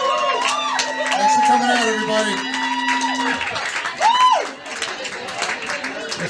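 Crowd at a St. Patrick's Day bar gig cheers, whoops and applauds loudly and steadily after a band's set, with someone talking over the noise into a microphone.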